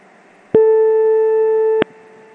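A single steady electronic tone from a VoIP phone call over a VirtualBox setup rings once, clear and loud, for just over a second, starting and ending abruptly against a quiet background.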